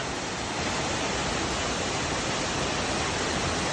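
A waterfall in Ratnapura district, a loud, steady full-bodied roar of falling water that holds unchanged throughout, close and alone without voices.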